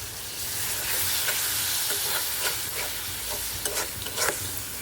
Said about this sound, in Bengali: পেঁয়াজ আদা রসুন সব ভাজা হয়ে গেছে, এখন এই মশলাগুলো দিয়ে দিই